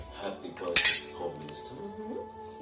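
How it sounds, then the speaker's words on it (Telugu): Metal spoon scraping and clinking against a bowl while veg biryani ingredients are mixed with yogurt, garam masala and coriander powder, one sharp clatter near the start, then softer stirring scrapes, close by with a faint television in the background. "బాగా మిక్స్ చేయాలి దీన్ని ఇలా"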